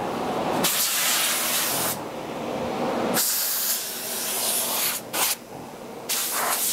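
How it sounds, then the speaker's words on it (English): Close, steady hiss of an HVLP spray gun laying conversion lacquer onto wooden doors, broken into several long bursts with short pauses and brief trigger releases between passes, no talking. "Spraying these doors."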